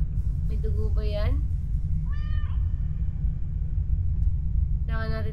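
A cat in The Stairway horror game meows in three separate harmonic calls over a constant low rumble, while a person talks between the meows.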